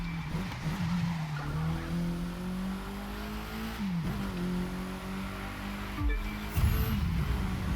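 A KTM X-BOW R race car in the racing game The Crew 2 roars steadily at high revs with tire squeal and skidding, the engine pitch dropping and rising through several gear shifts across nearly eight seconds.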